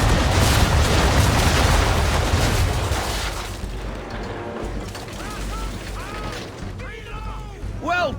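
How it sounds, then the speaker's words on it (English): Cannons on a sailing warship fire a broadside in Assassin's Creed III, a loud rumbling barrage of booms for the first few seconds that fades into lingering rumble, with voices speaking over the later part. "Bring around broadside, and when all guns are on target, call fire."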